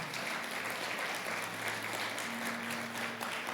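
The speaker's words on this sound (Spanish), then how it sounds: "Denle el aplauso fuerte al Señor." A church congregation applauds during a Spanish-language sermon, steady dense clapping throughout with a low sustained hum beneath it.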